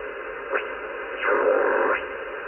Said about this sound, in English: This is the FT8 frequency, and this morning that's the only thing I can hear.